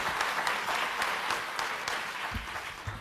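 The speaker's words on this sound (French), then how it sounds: "je vous demande de l'applaudir" Dense, continuous applause from a lecture audience fills the room, steady and moderately loud throughout, with a few sharper claps standing out near the end.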